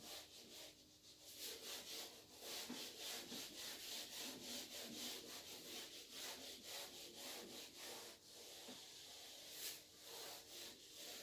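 Writing rubbed off a classroom board in a physics class, heard as a steady, close scrubbing swish that goes back and forth in quick strokes for several seconds with no talking.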